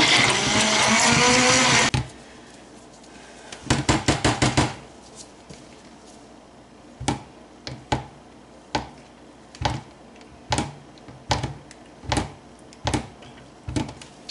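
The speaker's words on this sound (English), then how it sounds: "I'm actually going to go ahead and give it a whiz with the stick blender" A stick blender whirs continuously through cold process soap batter tinted with titanium dioxide, then cuts off, followed by a string of sharp taps and clicks spaced across the rest of the clip, with no talking.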